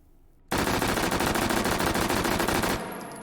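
Sustained automatic burst from an H&K MP5 fitted with a muzzle brake in the VR shooter H3VR, loud and close, a rapid even rattle of shots lasting about two seconds before cutting off into a fading echo.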